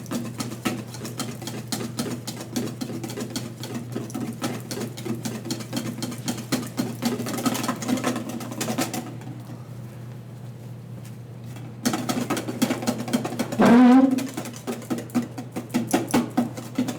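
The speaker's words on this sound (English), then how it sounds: "So I'm whisking, it's not breaking, it's not too shiny" A whisk beats clarified butter into hollandaise sauce in a bowl, giving fast, even rhythmic patter over a steady low hum. The beating pauses briefly partway through, then resumes with a short squeak.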